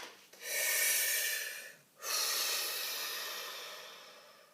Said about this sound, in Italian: facciamo un bel respiro sciamanico